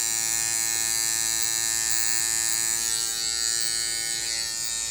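An electric hair clipper trims stray beard hair, giving a steady, loud, close-up buzzing hum with no talking over it.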